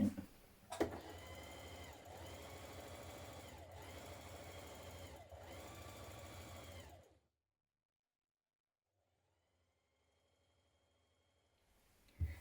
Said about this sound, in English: So we're going to do two lines of stitches. You want a long straight stitch